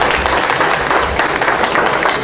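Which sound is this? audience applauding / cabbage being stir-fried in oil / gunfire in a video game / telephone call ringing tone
audience applauding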